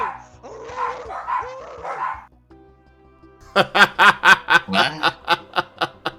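A person imitates a dog barking, a rapid run of about a dozen loud, close, yappy bark sounds after a stretch of laughing and murmured voice.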